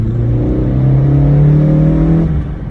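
A 2010 Honda CR-Z with a six-speed manual accelerates hard from first into second gear in sports mode, engine rising loud and close before a brief dip at the shift.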